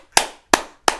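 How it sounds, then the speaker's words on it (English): Three sharp hand claps ring out close and loud, evenly spaced about a third of a second apart, each fading quickly with no talk. "We gonna get some hand claps today."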